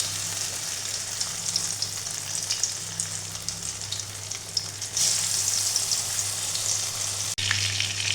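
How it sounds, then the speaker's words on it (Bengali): Chicken pakora pieces deep-frying in hot oil make a loud, continuous close-up sizzle and bubbling that holds steady throughout, with a brief scrape near the end. "চিকেনের পিসগুলো বা বলা চলে চিকেন পকোড়াগুলো আমি এরকম লাল লাল করে ভেজে নিচ্ছি।"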